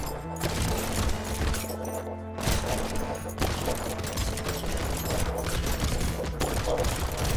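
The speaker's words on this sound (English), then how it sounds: "this is just a regular chain gun or like a minigun, kind of, but it's called chain gun" A chain gun in the video game Brotato fires in a continuous, fast rattle, loud and close, with brief gaps between long streams of shots and little else audible.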